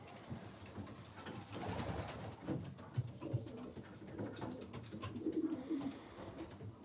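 Pigeons in a loft of about forty birds coo softly in overlapping low calls, a murmuring flock close by with a few clearer coos standing out.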